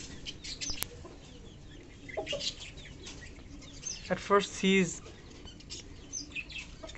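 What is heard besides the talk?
bantam chickens clucking while being fed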